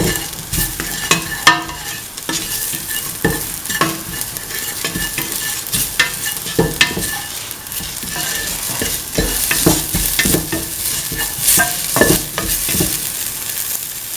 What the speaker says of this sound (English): Mix the onions, garlic and the ginger.